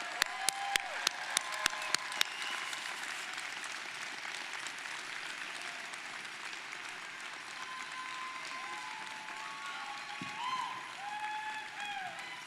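Audience at a Washington State University College of Veterinary Medicine ceremony breaks into sustained applause, a few sharp early claps swelling into dense, steady clapping from a large crowd that carries on throughout.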